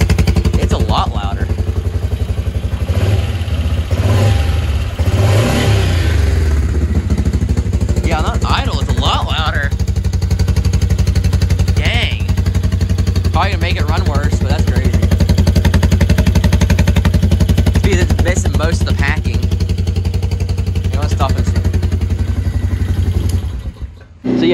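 A Can-Am Outlander 450 ATV engine, exhaust plug removed, revs and blats continuously at close range, its harsh unmuffled roar rising and falling before cutting off at the end.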